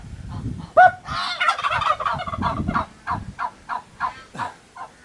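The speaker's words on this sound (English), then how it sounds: "I'm wondering whether that's like a distress call." Several turkeys gobble in a rattling chorus, followed by a series of shorter, evenly spaced gobbling calls, fairly close.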